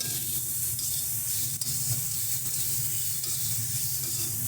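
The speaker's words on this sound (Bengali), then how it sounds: "ভালো করে সমস্ত কিছুর সঙ্গে মিশিয়ে নিচ্ছি" Dried fish with spices, cooked with home-grown flat beans, is stirred and mixed in a hot pan, giving a continuous soft sizzle under low rumbling stirring.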